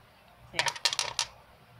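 Freshly clipped fingernails clicking against a desk: a short burst of several sharp, close clicks in quick succession over quiet room noise.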